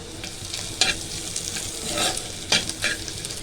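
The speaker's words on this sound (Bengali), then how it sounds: "দিয়ে দেবো আদা বাটা, দিয়ে দেবো রসুন বাটা" Ginger and garlic paste frying in hot oil gives a steady, close sizzle, broken by a few sharper scrapes and spatters as it is stirred.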